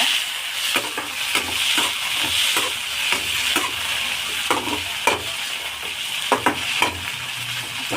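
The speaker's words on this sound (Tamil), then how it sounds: "முடக்கத்தான் கீரையை நல்லா அலசி கழுவி எடுத்துக்கோங்க, ஒரு கைப்பிடி அளவுக்கு. அதை இப்போது வானலில் சேர்த்து வதக்கி விட்டுக்கோங்க" A handful of washed mudakathan greens sauté in a hot pan, giving a steady sizzle punctuated by repeated spatula scrapes and taps against the metal, close by and without talk.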